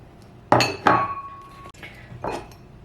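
Small lavender rose pattern ceramic bowls from a thrift store clink against each other in two sharp, bright knocks, then a softer third. Each clink rings briefly, up close.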